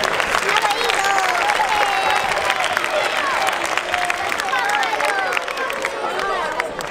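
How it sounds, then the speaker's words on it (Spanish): Applause from a group at a Movistar Estudiantes youth basketball event rings out close and dense, with voices and someone speaking over the clapping throughout. "un aplauso"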